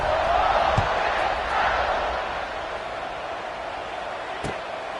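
A college football stadium crowd in an NCAA video game produces a steady, distant roar that eases slightly but stays continuous, with a couple of faint thumps underneath.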